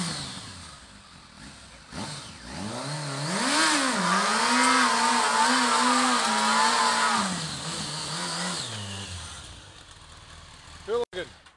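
A motorbike engine revs up close, climbing from a low idle to a loud, sustained wavering roar, then easing down and sputtering to a stop. People speak around it.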